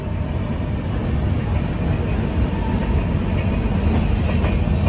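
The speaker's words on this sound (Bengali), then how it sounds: "বর্ধমানে 5 নম্বরে এই যে ট্রেনটা ঢুকছে" An express train from Bikaner to Sealdah rumbles loudly and steadily past at close range entering platform 5 at Bardhaman station, a heavy low roar with faint rhythmic clatter of wheels on rails.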